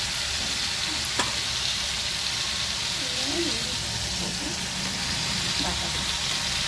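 Shrimp paste frying in a pan, a steady close sizzle and hiss that runs throughout, with a few soft clinks of utensils.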